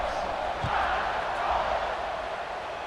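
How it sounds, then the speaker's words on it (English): Football stadium crowd buzzing after a score, a dense, steady wash of many voices and distant cheering that holds at a fairly even level throughout. "this crowd is buzzing after that last score"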